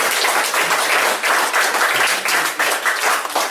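A book concert audience claps warmly to welcome the guests, dense rhythmic applause with pulsing swells filling the room, close and loud, no voices.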